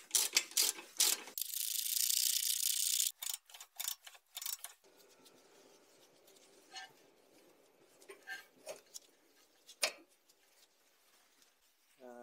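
Ratchet clicks on coilover bolts of a Toyota Celica ST202 with BC-Racing BR coilovers, a loud burst of rapid clicking early on, then sparse, fainter ratchet clicks and small metallic taps in a quiet garage.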